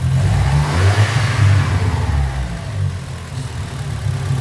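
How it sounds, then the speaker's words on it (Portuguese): A GM Astra engine revs up and falls back through steady, loud, close bursts of acceleration. The low engine rumble carries on without pause and no one speaks. "Vamos dar uma acelerada no carro aí."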